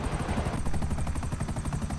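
Helicopter flying in Grand Theft Auto V, its rotor thumping in a steady fast beat with engine whine, loud and close throughout.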